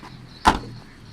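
A heavy door of a 2018 Citroen DS5 swings shut with a single solid thud, close and brief, over quiet cabin ambience.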